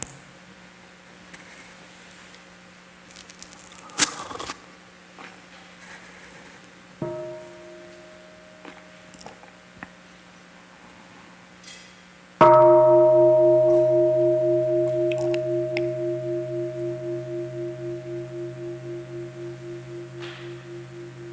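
A mindfulness bell at a Buddhist holiday retreat is struck once, loud and near, and rings out with a long, slowly fading hum for about nine seconds after softer tones and light room sounds.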